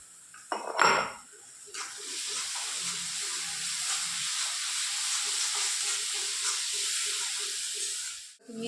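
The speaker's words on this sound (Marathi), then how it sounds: "फुल गॅसवरच मस्त छान फोडणी घालायची आहे." A sharp clatter as ginger, garlic and green chilli paste goes in, then a loud burst of sizzling that settles into a steady, vigorous hiss of oil frying on high heat.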